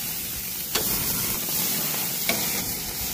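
Burgers frying in a hot pan give a steady, loud, close sizzle, with a couple of brief scrapes or pops breaking through the hiss.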